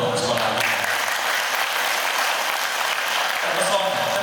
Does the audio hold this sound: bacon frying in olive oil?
no